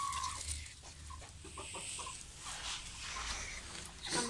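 Hens cluck softly in a coop, several short murmuring calls scattered over a quiet, slightly noisy background, faint and somewhat distant.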